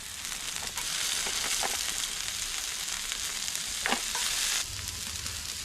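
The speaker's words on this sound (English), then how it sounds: "Hear that sizzle? That's what you want." Loud, steady sizzling of yabbies on a hot grill, close up, with a few scraping stirs partway through and no talking.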